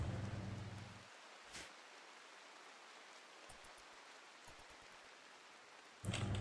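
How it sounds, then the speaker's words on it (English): Soft rain falls in the video game RimWorld, a steady hiss that thins out after the first second to near quiet with a few faint ticks, then swells back to a full, loud wash at the very end. "The rain is subsiding."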